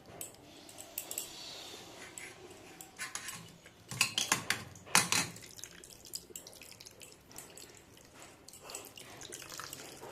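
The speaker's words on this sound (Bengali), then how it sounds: "তো এভাবে চেপে ভালোভাবে আমি জলটাকে বের করে নেবো, ছেঁকে নেব।" Water is pressed and strained out of chhana cheese curds, with dripping and splattering that swells into a louder burst of runoff midway. Soft clinks of utensils and a faint background hiss sound close by.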